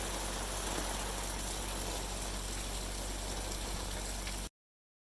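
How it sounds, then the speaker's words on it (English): A bulldozer works a driveway build surface at an excavation site, its engine rumbling in a continuous, fairly loud drone with a wash of noise over it before cutting off abruptly near the end. "So they're running the dozer, packing down some of the build surface"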